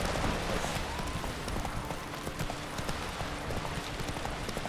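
Roach, a horse in The Witcher 3: Wild Hunt, gallops with quick rhythmic clip-clop hoofbeats close by, over a steady ambient bed.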